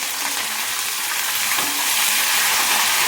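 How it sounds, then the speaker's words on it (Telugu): Tempering spices, dried red chillies and curry leaves sizzle in hot oil, making a loud, close, continuous hiss that swells slightly, with no voices heard. "ఆయిల్ కొంచెం హీట్ ఎక్కాక పోపు దినుసులు వేసుకోవాలి"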